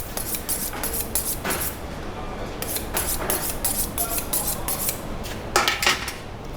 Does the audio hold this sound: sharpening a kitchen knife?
yes